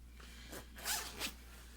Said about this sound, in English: I'm just going to unzip this here so I can show you the top